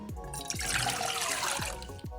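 Water pours and splashes into a cooking pot for instant buttery home-style mashed potatoes, a steady full trickle running for about two seconds with a few gulping bubbles, close and alone.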